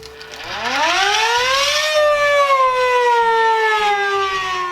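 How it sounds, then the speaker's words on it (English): An Acme mechanical siren whistle with a spinning blade inside winds up from a low pitch to a loud, steady wail, then slowly sags in pitch as it sustains for several seconds. "An Acme siren is a little siren whistle that has a spinning blade inside of it"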